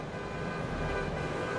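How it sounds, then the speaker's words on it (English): A stuck car horn blares continuously in the video game Grand Theft Auto 3, one loud unbroken tone over dense traffic noise, with no talk. "this car will not stop honking"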